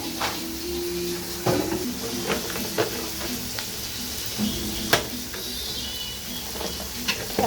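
Onion and two cardamom pods fry in a large pan, a steady close sizzle broken by sharp scrapes and knocks as a utensil stirs them, with no voices.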